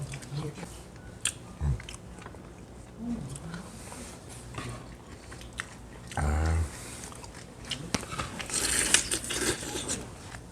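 Someone eating goat meat gukbap, a hearty Korean soup with rice, making close, intermittent chewing and biting sounds alongside scattered clinks and rustles.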